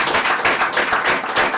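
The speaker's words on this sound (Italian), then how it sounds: "un applauso Emanuele Treossi." Dense, loud applause from a festival audience at a graphene science talk, a short sustained burst of many hands clapping together.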